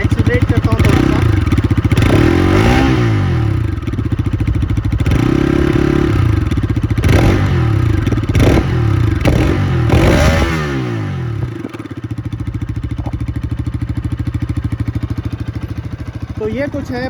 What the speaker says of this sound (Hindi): तो ये कुछ है पल्सर RS 200 का एग्जॉस्ट नोड।